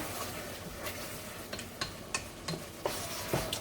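Jalapeño being stirred into a cooking pan for sukuma wiki (kale or collard greens), with faint scraping and scattered light clinks of a utensil against the pan over a soft steady background.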